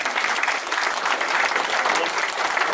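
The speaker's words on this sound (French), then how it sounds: "Alors, applaudissons, s'il vous plaît." Wedding guests applaud together at a traditional wedding in Osny, Val-d'Oise, a dense, steady clapping that fills the whole stretch evenly with no break.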